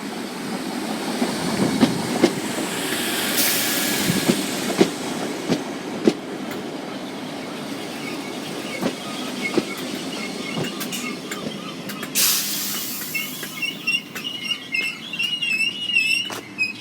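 A passenger train runs on the rails toward Bootle New Strand, a steady rumble with clickety-clack wheel knocks and occasional high squeals from the wheels, heard from on board with no talk.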